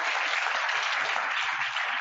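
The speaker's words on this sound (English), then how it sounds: "We can clap for that, can we?" Audience at a Toastmasters club meeting clapping, a dense, steady wash of applause for about two seconds.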